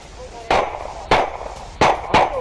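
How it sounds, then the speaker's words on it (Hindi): Russian army gunfire in snowy winter combat near Pokrovsk: four sharp bangs in two pairs, moderately loud over a steady hiss and low rumble. "पोक्रोवस्क में रूसी सेना की जबरदस्त फायरिंग"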